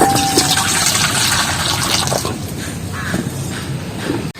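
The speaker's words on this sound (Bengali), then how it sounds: "এই জলটা কিন্তু এই ডেক্সির মধ্যে নিয়ে নিচ্ছি" Heated water is poured into a cooking pot, a continuous splashing, gurgling pour running close and fairly loud for several seconds before cutting off abruptly.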